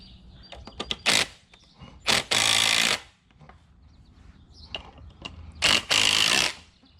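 A hand tool tightens fasteners on wooden shed stairs for a tiny house build, giving three loud mechanical ratcheting bursts separated by quieter clicks and handling noise.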